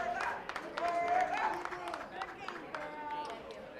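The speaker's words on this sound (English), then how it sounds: "Round of applause from the gallery and the players at the table." Applause from the gallery and players at a poker table during the FPN Vegas $100k Tag Team Championship, scattered clapping running steadily under overlapping nearby voices.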